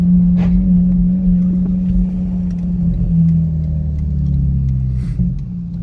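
Steady droning exhaust of a 2009 Honda Accord V6 coupe with straight pipes and an electric cut-out, heard from inside the cabin while cruising, loud and continuous with slight shifts in pitch.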